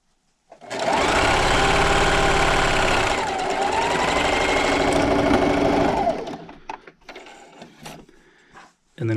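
Sewing machine running a straight stitch at 2.5 length down a fabric strip for a table runner, a loud steady whirring drone for about five seconds that briefly dips and then stops, followed by small clicks and handling noises.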